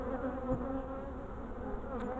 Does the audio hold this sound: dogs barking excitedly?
no